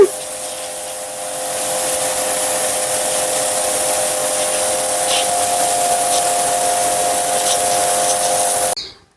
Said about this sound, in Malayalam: ഞാനേ ഇത് ആദ്യം ഇതിങ്ങനെ ഒന്ന് ക്ലീൻ ചെയ്യട്ടെ മണ്ണൊക്കെ ഒന്ന് കളയട്ടെ